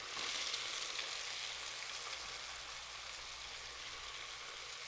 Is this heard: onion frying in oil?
yes